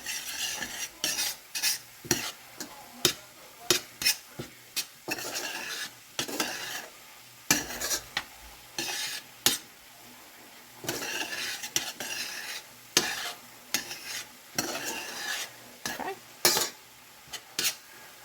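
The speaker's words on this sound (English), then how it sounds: "I'm going to mix this around and let it cook until the liquid has evaporated" A mixture with spice powder cooking down in a pan until the liquid evaporates: repeated rhythmic scraping and knocking of a utensil against the pan over a quiet sizzle, close, in bursts with short pauses, no talk.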